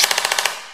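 An LCT airsoft gun with a GATE Titan v3 trigger unit, firing fully automatic: a rapid, loud burst of about seven closely spaced shots that then rings away into quiet, with no voices.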